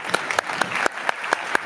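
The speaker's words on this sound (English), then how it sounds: "Round of applause for Joey and his shade-tolerant crops" An audience claps at a food innovation event session, a steady patter of individual hand claps ringing out clearly for a brief moment with no voices over it.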